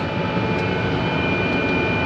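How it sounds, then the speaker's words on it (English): A tractor engine runs steadily during corn planting in Illinois, a continuous loud, even drone with broad low rumble throughout, no talk. "Tractor's still running."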